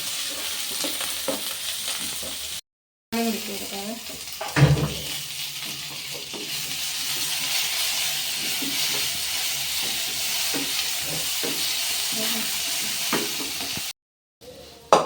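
Green chilies and shallots frying in hot oil in a pan for fish curry, a continuous loud sizzle with occasional clanks and stirring scrapes, briefly cutting out twice.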